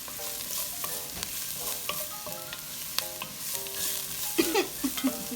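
A utensil stirs green onion in a hot frying pot for Jamaican pepper shrimp, with steady sizzling throughout and a few sharp scrapes and clinks against the pot, fairly close, no talking.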